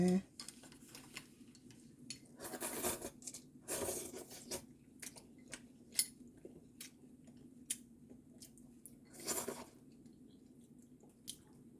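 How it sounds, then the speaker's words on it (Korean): Janchi guksu noodle soup topped with sesame seeds and seaweed flakes is eaten close up, with soft chewing, a few louder slurping bursts and faint utensil clinks. "국수 먹어보겠습니다."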